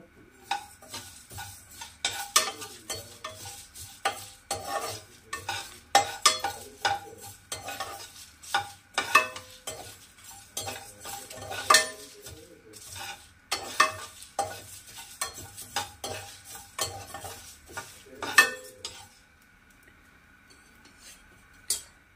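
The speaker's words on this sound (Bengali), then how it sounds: "শুকনো লঙ্কা আমি 3টে দিয়ে দিলাম, আর 2টো তেজপাতা দিলাম, দিয়ে এটা একটু আমি ভেজে নেব" Dried red chillies and bay leaves fry in a pan, with a steady sizzle under repeated sharp metal spatula scrapes and stirring clatter, close and moderately loud, no talking.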